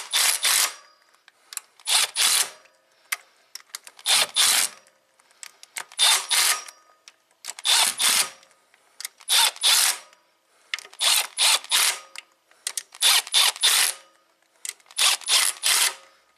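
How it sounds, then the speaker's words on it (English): Cam cap bolts on a Toyota Prius engine are tightened during a head gasket job with a ratchet, heard as close, clicking bursts in a regular stop-start rhythm with short pauses between them. "Now we just tighten down the cam caps again, and that's it."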